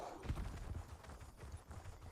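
A goat mount in The Elder Scrolls Online clops along with quick, irregular hoofbeats, quiet and steady against faint game ambience, with no talking.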